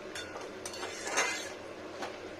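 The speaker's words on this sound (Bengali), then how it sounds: "এবার এটাও একটু মিশিয়ে নেবো" A spoon stirs and mixes an egg, lentil and poppy seed dish with ground coriander leaves in a cooking pot, giving soft scrapes and light metallic clinks, quiet and close.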